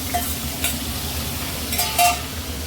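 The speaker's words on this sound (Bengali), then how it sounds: "এবার আমরা ছেড়ে দিলাম পুরো চিংড়ি মাছটা। এটা আমরা খুব ভালো করে ভেজে নেব।" Whole prawns fry in a pan for a prawn paneer ghee roast, giving a constant bright sizzle with a couple of louder spattering bursts and stirring scrapes, heard close with no voices.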